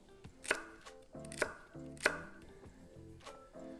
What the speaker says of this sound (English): 1 rib of celery. Cut the ends off.